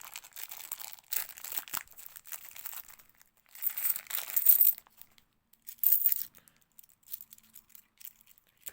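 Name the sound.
scissors cutting open a plastic coin bag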